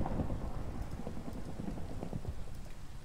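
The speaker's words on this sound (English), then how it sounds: "I'm going to stay in here till the rain stops." Steady rain in the video game Minecraft, a continuous dense patter with scattered louder drops, heard alone at an even level throughout.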